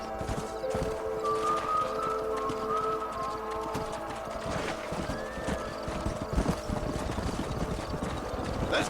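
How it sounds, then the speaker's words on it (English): A herd of horses in the Red Dead Redemption video game clip-clops steadily across the ground, dense overlapping hoofbeats with a neigh or two, under ambient game music and atmosphere. "I got a herd of horses here that I'm trying to"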